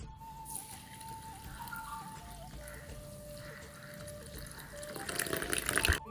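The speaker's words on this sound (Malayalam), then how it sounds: "ഇതൊന്നൊരു 10 മിനിറ്റ് നമുക്ക് കുതിർത്തെടുക്കാം വെള്ളം ഒഴിച്ചിട്ട്." Water poured over 500 grams of broken wheat to soak it for upma, a steady trickling pour under a thin tonal hum that swells louder and splashier toward the end.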